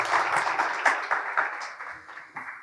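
Audience applause welcoming a speaker onto a conference stage in Guatemala, a dense wash of clapping that holds steady, then thins and fades toward the end.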